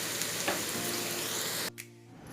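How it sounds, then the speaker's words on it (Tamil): Potatoes sizzle and crackle steadily in a hot pan, then the sizzle drops abruptly quieter near the end. "உருளைக்கிழங்கு நமக்கு சூப்பராக ஃப்ரை ஆகி வந்துச்சு"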